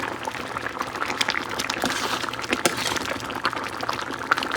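A pot of oats boiling on the stove: a continuous, close bubbling and gurgling of thick liquid, even in level, with small pops scattered throughout.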